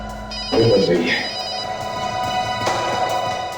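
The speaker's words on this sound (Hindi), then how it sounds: "फोन बज रही है।" A telephone rings in a scene from the Indian TV crime drama CID, a steady repeating electronic tone under a noisy scene, while voices talk over it.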